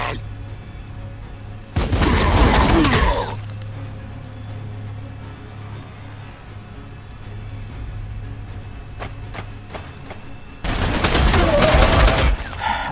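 Gunfire in the Warhammer 40,000: Sanctus Reach strategy game comes in two loud, dense fusillade bursts at the start and end, with a low steady hum between them.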